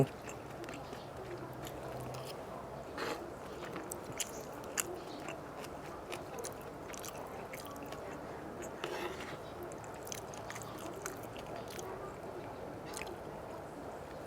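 Someone chews stir-fried garlic squid close up, with soft, repeated biting and squishy mastication sounds running faintly and steadily over a low background hum.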